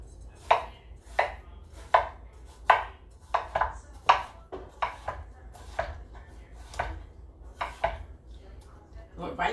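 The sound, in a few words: knife cutting watermelon into halves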